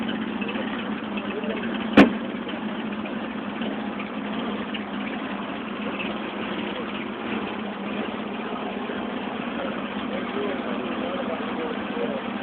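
Engine of a 1919 Cadillac idling steadily just after starting, a constant low rumble with one sharp click early on, running alone without voices.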